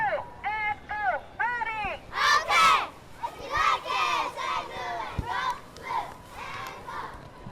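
A holiday-parade cheer squad shouts and cheers in unison, bursts of chanted voices rising and falling in a lively crowd, loud and close throughout.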